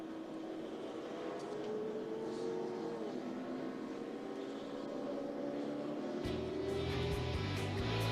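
NASCAR race trucks accelerating off pit road at Daytona, a loud sustained engine roar with rising pitch sweeps, growing heavier and rougher toward the end.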